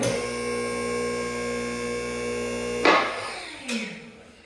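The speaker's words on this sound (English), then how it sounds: "That's the first locking mechanism." A single post car lift motor hums steadily with mains buzz, then a sharp metallic clunk sounds, followed by a second lighter clack as the first locking mechanism catches.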